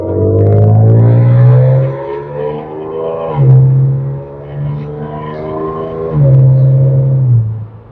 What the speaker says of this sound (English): I'll just share my exhaust setup and how it sounds now.